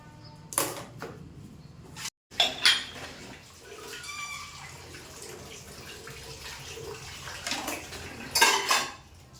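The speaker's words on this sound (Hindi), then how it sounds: "यहाँ पे जितने सारे बर्तन हैं, सारे मैं अच्छे से वॉश करके इन्हें साइड में रख दूँगी" Dishes, pots and cutlery being washed at a kitchen sink with running tap water, a steady clatter of utensils and splashing with a few sharp clinks near the start and end.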